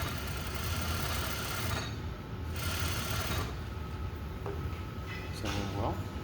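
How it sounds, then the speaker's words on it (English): Sewing machine stitching a shirt collar together along a half-inch seam, a fast steady whirring hum with brief pauses and small clicks, fairly quiet and close. "So the only thing that I am doing is sewing my collar together."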